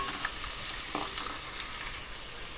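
Onion frying in hot oil with cumin and mustard seeds for a brinjal-potato curry, a faint steady sizzle with light stirring, close and without talk.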